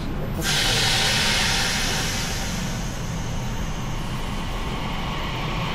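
A train passes at night on a cold evening, a loud rushing roar with a bright hissing burst near the start that holds steady, then slowly thins as the cars roll by, with no voices.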